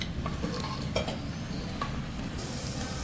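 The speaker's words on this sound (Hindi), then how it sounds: "हम इसे मीडियम फ्लेम पर फ्राई करेंगे, लेकिन बहुत गोल्डन नहीं करना और क्रिस्पी नहीं करना है" Bitter gourd (karela) pieces fry in oil on a medium flame, giving a steady dense sizzle with a few light clinks of a utensil stirring in the pan, and no voices.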